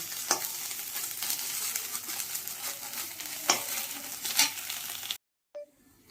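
Kharkol leaves fry in a pan, a loud sizzle broken by several scraping stirs, then the sound abruptly cuts to near silence before a faint tail.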